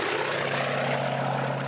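Propeller engine of a Japanese Army Oscar fighter plane from World War II, a steady loud droning roar with a constant low hum, heard alone.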